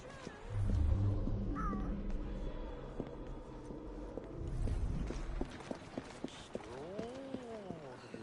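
A cat meows in the game Assassin's Creed Syndicate, with several short, close mews and rising-falling cries near the end, over a steady low rumble and clip-clopping hooves in the background.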